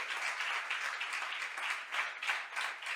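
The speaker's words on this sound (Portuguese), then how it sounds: "Você pode aplaudir o Senhor?" A church congregation applauds during a Portuguese-language sermon, making a dense, continuous wash of clapping that sounds somewhat distant and soft, with gentle swells throughout.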